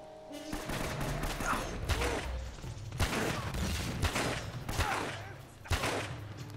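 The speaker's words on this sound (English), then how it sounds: "God, this gun just destroys people." Repeated gunfire in Uncharted: Drake's Fortune, loud, close shots fired at an irregular pace with brief pauses between them, over a steady background of game noise.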